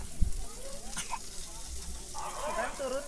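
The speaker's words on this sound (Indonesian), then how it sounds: "Goreng-goreng lah telur kayak gitu lah" Eggs frying in a pan on a camp stove during a breakfast stop on a mountain hike near a volcanic crater, a soft steady sizzle under nearby voices talking outdoors.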